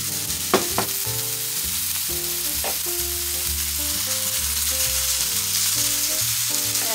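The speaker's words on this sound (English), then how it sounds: "next I'm going to add my ground beef." Ground beef hits a hot pan and sizzles loudly, a dense continuous crackle with a few sharp clicks early on and a low hum underneath.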